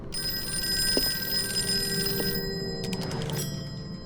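A telephone rings inside the video game Call of Cthulhu, its bell trilling loudly and continuously for over two seconds, then starting again over a murky ambient background.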